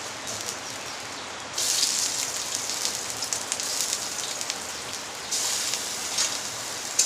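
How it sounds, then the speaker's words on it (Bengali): Steady rain pours down onto a surface, a constant hiss with bursts of heavier downpour, close and fairly loud with no voices. "বৃষ্টি নামছে তো শব্দ শোনা যায় না"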